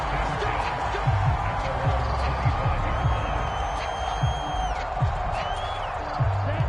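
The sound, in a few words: home crowd cheering in video game Madden 25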